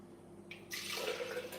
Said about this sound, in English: so I poured in a cup of water